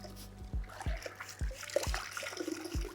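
A plush towel soaks in a bucket of rinseless wash water, with a series of soft splashes and drips recurring at a steady rhythm, close and quiet.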